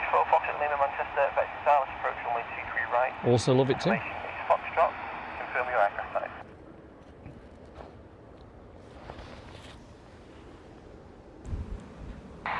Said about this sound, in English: it's great when you can listen to the scanner as well